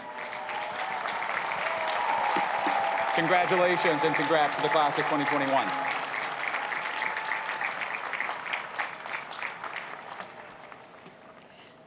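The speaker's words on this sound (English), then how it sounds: "let's give a round of applause to this year's winners" Audience applause for award winners at a university graduation ceremony, a sustained round of clapping from a large outdoor crowd, with a speaker's congratulations voiced over it.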